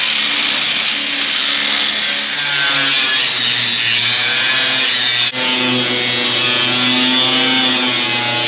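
A power tool cuts through sheet metal on a cattle squeeze chute, a loud continuous grinding whine that holds steady for several seconds, briefly drops out, then resumes, with no talk over it.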